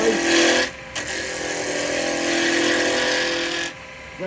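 A woodturning gouge cutting a spinning workpiece on a lathe, a steady scraping hiss with a bright tonal hum, briefly stopping and restarting as the tool lifts and re-engages along the wood.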